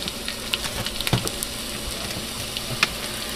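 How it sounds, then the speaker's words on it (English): Ground meat for lasagna soup browning in a pot, a steady close sizzle and frying hiss with a few small clicks of stirring, no voices. "go ahead and let this start browning"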